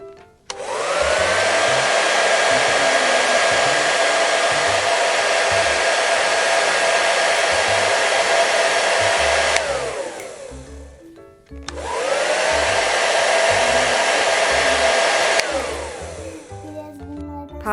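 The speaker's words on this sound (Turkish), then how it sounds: "Sen aç fön makinesini." An electric hair dryer is switched on for about nine seconds, cut off, then run again for about four more. Each run is a loud, close, steady whoosh with a rising whine at start-up.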